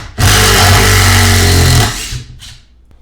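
A Makita GDT02 XGT impact driver runs loud and close in one sustained burst of about two seconds, with a steady mechanical whir, then spins down. A brief fainter whir follows.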